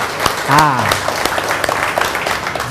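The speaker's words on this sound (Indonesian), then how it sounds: "Jawa Timur patut mendapat tepuk tangan yang gegap gempita" Thunderous applause from an audience at a regional government talk, a dense steady wash of clapping running throughout, with a voice briefly speaking over it near the start.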